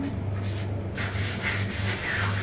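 Close rhythmic scrubbing of white bathroom tiles, repeated coarse rubbing strokes in a steady back-and-forth pattern with no talking.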